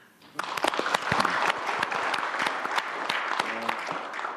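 A burst of clapping from a group starts abruptly and continues steadily, dense and lively, with a few sharper claps standing out.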